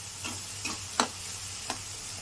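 Onion and chicken fry in a pan with a soft, constant sizzle, broken by a few light scraping strokes of a spoon, one sharper than the others.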